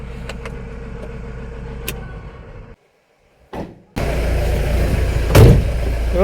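An old, badly worn car's engine idles with a few clicks and a thud, drops to near silence, then a door-like clunk and a louder engine rumble.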